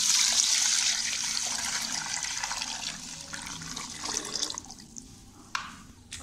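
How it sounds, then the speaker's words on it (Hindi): Strained yakhni stock for restaurant-style hot and sour soup is poured back into a pot: a steady rushing liquid stream fades gradually, then a few close drips and clinks follow. "यखनी को हम वापस पतीली में डाल देंगे।"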